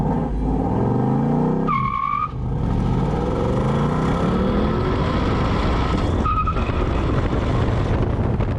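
A 2024 Ford Mustang GT launches from a standstill with the clutch slipped, its engine roaring loud and close, with brief tire chirps and a sharp upshift gap near two seconds and another around six.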